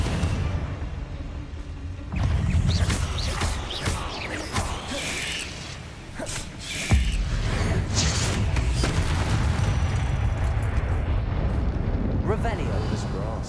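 Confringo blasting spells burst in Hogwarts Legacy, thrown alongside other combat spells in a catacomb fight. Repeated rumbling explosions with swooshing bursts rise over a busy battle din, with two stronger blasts that start sharply and then swell.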